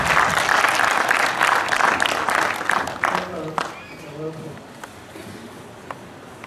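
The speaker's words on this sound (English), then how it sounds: "deserves another applause" Audience applause at a public talk on maintenance of public infrastructure, dense and steady for about three seconds before thinning out into scattered claps, with a few voices heard as it fades.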